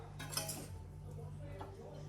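Two metal spoons mixing poha in a pot: a few light clinks and scrapes, a quick cluster near the start and another soft one later, faint against a quiet room hum.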